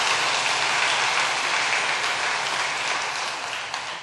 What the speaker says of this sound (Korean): 은혜와 평강이 넘치는 은평교회 분들은 특히 박수 치시는 것이 남다르시네요. 저는 그렇게 긴 박수를 들어본 적이 없습니다.